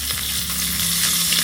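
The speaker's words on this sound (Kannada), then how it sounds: "ಬಿಸಿ ಬಿಸಿ ಎಣ್ಣೆಯಲ್ಲಿ ಕರಿಬೇವಿನ ಸೊಪ್ಪು ಹುರ್ಕೊಂಡು ಆಗೋಗುತ್ತೆ" Curry leaves are frying in a hot oil tempering, giving a continuous close, loud sizzle with light crackle and faint stirring, with no voices.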